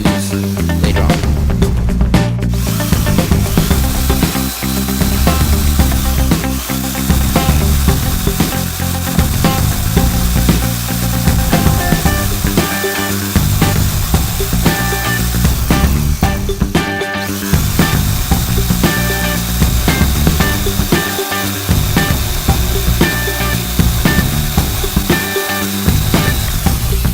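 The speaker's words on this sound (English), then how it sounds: "right here I'm taking a jigsaw and cutting out the broad shape of the actual handle" A jigsaw cuts the broad outline of a handle for a homemade double-barreled blaster, a harsh, dense buzzing rasp that continues loud and close for the whole stretch, briefly dipping a few times, with no speech.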